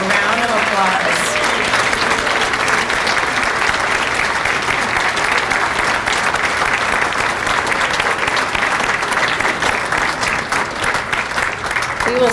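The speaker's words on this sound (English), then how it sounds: "let's give all of our retirees and 25 years a round of applause." Banquet audience applauding retirees and 25-year honorees, a thick, loud wall of clapping from a large room that holds steady for over ten seconds, with faint voices and cheers mixed in at the start.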